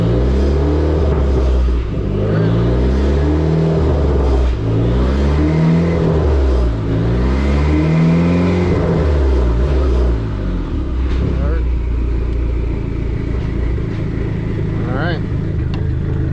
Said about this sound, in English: So first gear, second gear,